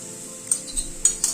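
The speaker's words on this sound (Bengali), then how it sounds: "পেঁয়াজটাকে মিনিট 2 মতো একটুখানি ভেজে নিলাম।" Onions fry briefly in a pan for potato dopiaza, a soft sizzle under a few bright metallic clinks of a spatula scraping and stirring, close by and without talk.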